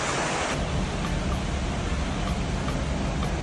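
Water flows steadily at a hot spring in Atami, a continuous broadband rushing that stays even and fairly loud throughout.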